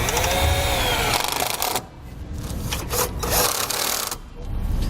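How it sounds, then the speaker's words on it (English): A power driver with a 5/16 inch bit drives self-tapping screws while a Roadmaster battery charge line kit for a towed vehicle is mounted. The whirring, grinding drive is loud and close, with brief pauses between runs. "We're going to use the provided self-tapping screws, the 5/16 inch bit driver,"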